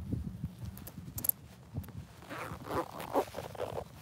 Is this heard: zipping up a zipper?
yes